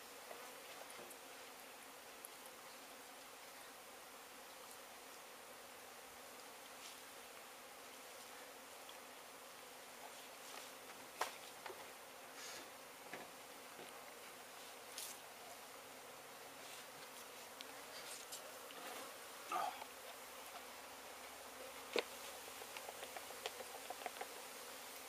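Bees swarm around a hive tucked under a travel trailer, making a faint, steady buzzing hum with scattered soft taps and knocks nearby.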